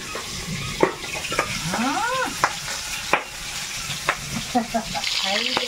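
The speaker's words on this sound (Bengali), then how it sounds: "এত ফুটতেছে ধুমধাম করে আওয়াজ হচ্ছে" Fish frying in hot oil on a home stove for a river fish and eggplant dish, a steady loud sizzle with sharp sputtering pops and crackles, while a voice speaks over the frying.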